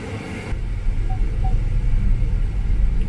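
Jaguar I-Pace electric car under hard acceleration, heard from inside as a loud, steady low rumble of road and motor noise with a faint whine and no engine note.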